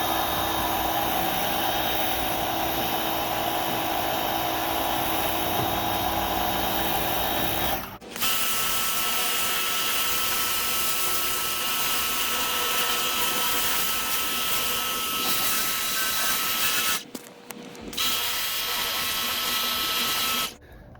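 A DeWalt 20V cordless power washer fitted with a turbo nozzle and set on high, spraying onto a C10 truck frame, makes a steady, loud hissing whine. The sound cuts out briefly twice.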